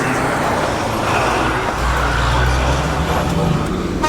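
A car drives on a mountain road in Sri Lanka, its engine and road noise a steady, loud rumble heard from inside throughout, with no clear speech.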